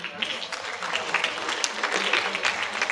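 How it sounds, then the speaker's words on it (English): A school assembly crowd claps at a moderate level, a steady wash of many hands with scattered sharper claps and faint voices underneath. "a round of applause for yourselves as well"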